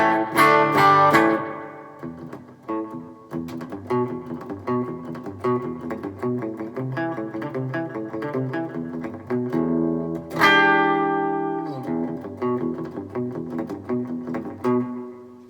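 Electric guitar picking a quick repeating pattern with echoing repeats and a reverberant wash, with strummed chords ringing out at the start and again near the end.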